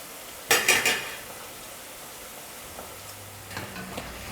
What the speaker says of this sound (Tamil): நம்ம தட்டி வச்சுருக்கிற மாவை எடுத்து எண்ணெயில் போட்டு பொரிச்சு எடுத்துக்கலாம்